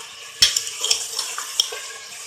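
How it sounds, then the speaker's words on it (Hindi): Beef frying with ginger and garlic in a pot for nihari: a steady sizzle broken by sharp clinks and scrapes of stirring, close and moderately loud, no voices. "हम गोश्त को अच्छी तरीके से भूनेंगे।"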